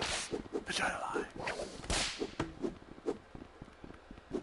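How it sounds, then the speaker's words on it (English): Whip lashed in the VR game Rec Room, cracking sharply again and again over a few seconds in an uneven rhythm, loud and close, with a faint hum of background chatter between the snaps. "Got my own whip."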